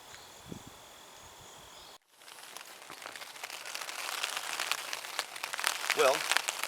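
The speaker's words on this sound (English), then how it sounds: "Well, decided to start raining on us." Rain patters on a tarp over a camp, a dense crackling hiss of drops that begins abruptly and builds steadily louder, with a voice talking briefly.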